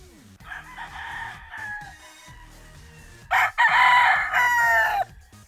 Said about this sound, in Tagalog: Ayun, manok ng kapitbahay Tagalog lang.